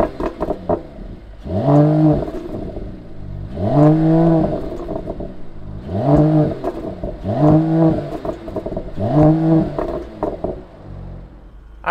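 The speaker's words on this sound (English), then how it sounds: "let's fire up this CLS 53 and see if it makes any noise" A 2020 Mercedes-AMG CLS 53 engine fires up and then revs in five evenly spaced blips, each rising and falling sharply over a quieter idle, loud and close with no talk.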